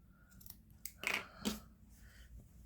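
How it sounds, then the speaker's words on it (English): Scissors snip off loose ends of T-shirt fabric, a few quiet, close crisp cuts and rustles with short pauses between them. "So I think I'm just going to trim this off."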